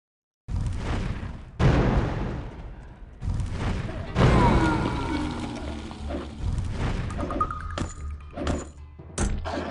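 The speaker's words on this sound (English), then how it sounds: "I can go in here and Fire Flash." A Fire Flash spell cast in the Arcanum video game: a series of booming whooshes and crackling bursts, several loud onsets a second or two apart, followed by clinking, thudding impacts as combat continues.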